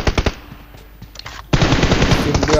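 M416 rifle fire in a mobile shooter team deathmatch: a few sharp rapid shots, a brief lull with faint clicks, then a loud sustained automatic burst, close and dominant.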